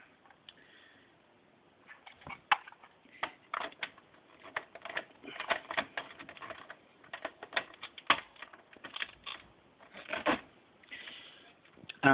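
A typewriter carriage is worked back into place, producing irregular clusters of sharp mechanical clicks and clacks of varying loudness, close and alone, with quiet gaps between bursts.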